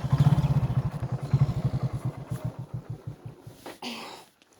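Motorcycle engine idling and pulsing in a fast, even putter, close and fairly loud, fading out after a few seconds into a brief rustle.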